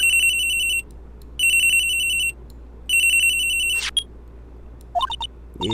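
A phone ringtone in the video game Phoenix Wright, three bright electronic ring bursts with short gaps between them, loud and close, followed by a few short chirpy game blips.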